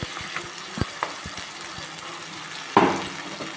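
Masala being stirred into frying onions and tomatoes for a spicy prawn curry, with a low sizzle under scattered soft utensil knocks and a louder scrape near the end, close with no talk.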